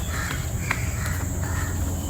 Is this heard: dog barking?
no